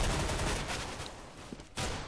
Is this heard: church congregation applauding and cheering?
no